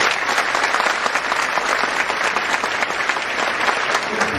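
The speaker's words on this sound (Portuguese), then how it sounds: "pedimos uma carinhosa salva de palmas" Steady, dense applause from a concert audience at a symphonic band performance, a continuous wash of clapping with no music.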